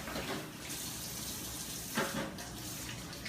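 A tap runs for washing hands with soap at a kitchen sink, a steady hiss of water with a brief splash near the middle, fairly quiet, with no talking.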